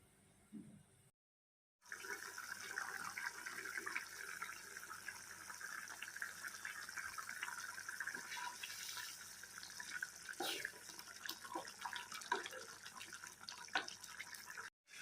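Water runs and splashes steadily into a pan of drumstick curry cooking over a high flame, a continuous pouring rush after a brief silence, close and moderately loud.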